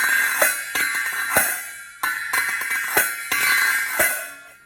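Small metal Coptic hand cymbals clash in a repeated rhythmic pattern, bright and shimmering, ringing on between strikes with no voices.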